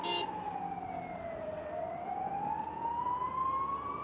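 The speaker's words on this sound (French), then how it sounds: "La ville grouille d'ambulances." Ambulance sirens wail through a war-torn city, one steady tone sweeping slowly down then rising again, moderately distant over low traffic rumble.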